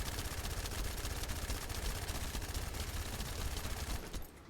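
Sustained automatic gunfire from the Enduring Legacy weapon in the game The First Descendant, a dense rapid stream of shots that runs loud and steady for about four seconds before cutting off.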